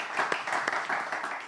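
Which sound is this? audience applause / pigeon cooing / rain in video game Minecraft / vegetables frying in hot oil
audience applause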